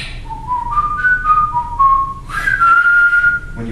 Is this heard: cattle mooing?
no